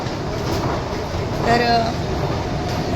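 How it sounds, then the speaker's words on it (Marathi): A train rumbles steadily with a low mechanical roar, heard up close from a station or platform in Mumbai while people talk over it. "ट्रेन पकडतोय आणि चाललोय"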